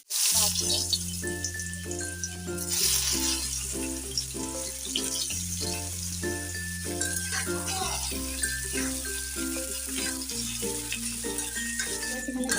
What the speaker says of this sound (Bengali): এখানে এখন কচু ভাজবো